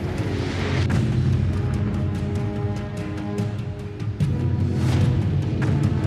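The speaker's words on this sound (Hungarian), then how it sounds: "A robbanást ugyanaz az óceáni nyomás némítja el, amely a repedést okozta." A bomb on the deep ocean floor explodes after seawater seeps through a crack in its casing, heard as a dense, muffled low rumble with a series of dull thuds that stays loud and steady throughout.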